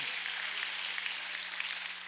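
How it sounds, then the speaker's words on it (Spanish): A church congregation claps in a steady, dense wash of applause, sounding somewhat distant and fairly quiet. "¿No le da un aplauso al Señor en eso, hermano?"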